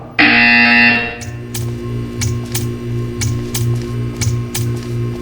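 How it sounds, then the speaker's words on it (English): Portal 2 buzzer: a loud harsh electronic tone lasting about a second, followed by a rhythmic series of ticking, clacking pulses repeating at a steady pace. "You will hear a buzzer."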